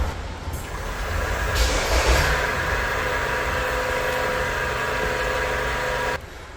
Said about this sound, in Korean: 스타트 모터를 한번 돌려서 연료 펌프가 작동하는가, 작동음은 과연 깨끗한가